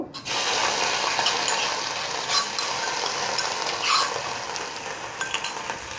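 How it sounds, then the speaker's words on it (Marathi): Ginger, garlic and green chilli paste frying in hot oil in a pan for Mumbai vada pav, a steady loud hissing sizzle with a few brief scraping accents, and no talking. "आणि चांगली फ्राय करून घ्यायचे"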